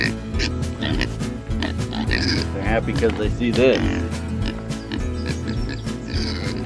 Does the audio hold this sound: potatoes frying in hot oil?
no